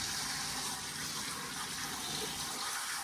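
Running water rinses salt off fermenting hot peppers, a steady, close rushing gush that holds level throughout with no talk over it.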